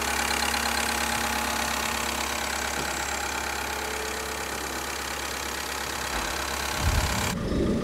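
A 2019 Honda Amaze top-model car engine idles steadily up close with a constant even hum, then near the end a short muffled thump and shift in the sound, with no talking.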